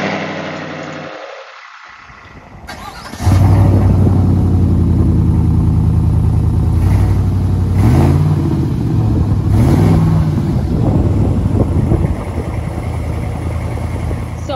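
A 2021 Chevy Silverado V8 with a Flowmaster exhaust from a muffler shop starts up, then idles loud and close with a deep rumble, punctuated by several quick throttle revs that rise and fall.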